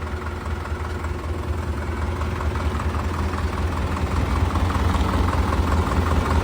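A tractor's low, steady diesel engine rumbles at idle throughout, close by and continuous with no voices.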